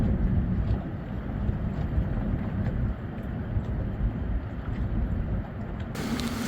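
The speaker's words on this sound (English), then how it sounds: "We are cruising Miami waters today." Boat cruising across Miami waters, a steady broadband rumble of engine and water rush with wind buffeting the microphone, continuous and fairly loud throughout.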